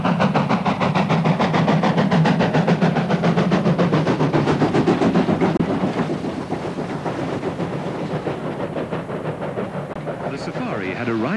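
A steam locomotive works hard on a South African railway, with loud, rapid rhythmic chuffing over heavy mechanical rumble that eases slightly as it passes.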